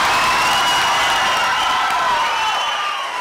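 An audience at a Tamil stage debate bursts into applause, a dense, loud wash of clapping that holds steady for about three seconds and eases slightly at the end.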